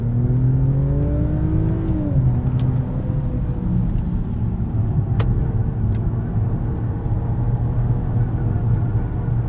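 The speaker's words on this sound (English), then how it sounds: "let's put us into Sport Plus and hit this entrance ramp" A 2022 Mercedes-Benz S500 4MATIC with a 3-liter inline six in Sport Plus mode accelerates hard up a highway entrance ramp, its engine note climbing steadily under a loud, constant road rumble from inside the cabin.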